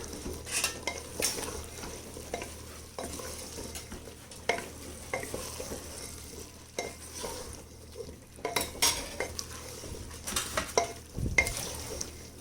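Cauliflower being stirred into a tomato masala in a pan, heard as repeated scraping and clinking of a spoon against the metal pan over a soft, steady sizzle, close and moderately loud with no talking.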